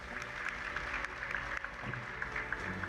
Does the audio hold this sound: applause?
yes